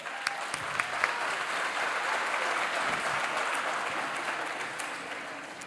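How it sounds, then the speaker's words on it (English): Audience applause at a community annual day event, a full steady wash of clapping from a sizable crowd that holds evenly and tapers slightly at the end. "A big applause for them."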